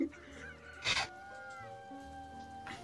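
A rooster in the video game Divinity clucks and lets out two sharp squawks over sustained game tones.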